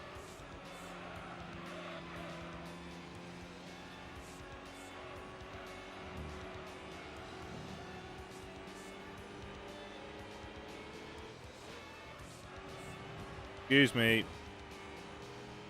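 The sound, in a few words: race cars in the video game Gran Turismo 3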